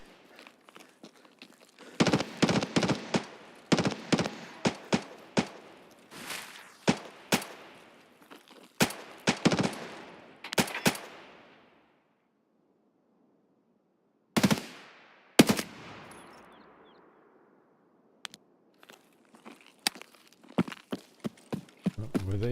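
Video game gunfire in Escape From Tarkov: scattered bursts of sharp automatic shots and single cracks, some loud and some distant, separated by quiet gaps and trailing echoes.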